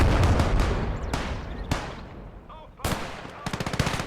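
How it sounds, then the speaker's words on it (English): Machine gun on a Marder in the Gates of Hell Eastern Front game, firing rapid bursts alongside heavier shots and booms in a loud battle mix, with scattered sharp cracks and short volleys. "But that machine gun on the Marder is helping quite a bit."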